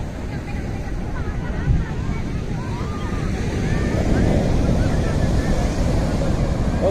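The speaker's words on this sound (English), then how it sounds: "really quite a long beach with extremely huge waves" Huge ocean waves break and roar continuously along a long surf beach at Cibuaya, a broad rumbling wash with wind buffeting the microphone and swelling louder midway.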